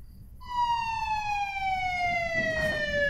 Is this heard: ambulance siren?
yes